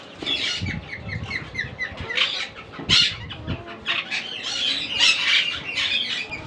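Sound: pet parrots squawking, ringneck and green quaker pairs

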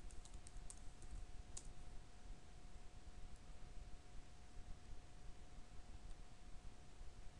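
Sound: typing a password on a computer keyboard

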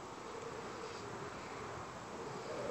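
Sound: bug buzzing in Minecraft video game

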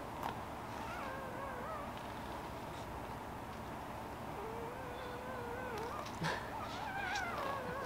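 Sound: newborn puppies whimpering in sleep

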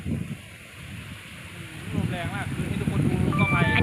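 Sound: strong wind behind the house

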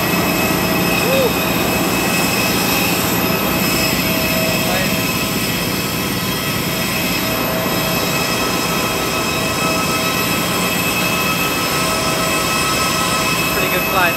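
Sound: airplane after landing in Kuching

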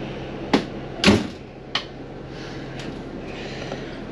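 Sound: closing the door of a motorhome

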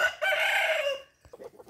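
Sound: chickens clucking

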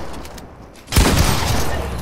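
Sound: gunfire from a video game

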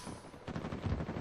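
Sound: gunshots in video game Uncharted 4 online

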